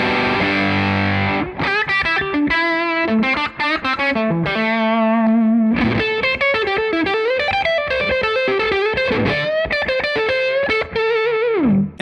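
Electric guitar played through a Tonex Mini JTM45 amp model with presence and treble raised, a loud, continuous run of overdriven chords and single-note lines with a brief pause near six seconds, no talking.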